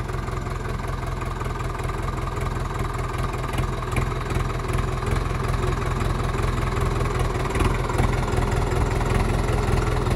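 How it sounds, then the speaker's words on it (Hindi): A Sonalika DI 750 III Sikander tractor's diesel engine idles steadily, a loud, continuous low chugging throb that runs unchanged from start to finish without any speech. "ये देखो आप ट्रैक्टर है ये अपने आप चल रहा है।"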